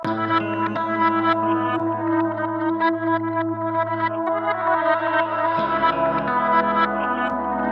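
A reversed musical phrase with swelling, backward-sounding tones, sustained low notes and echoing effects, playing loud and steady with no speech.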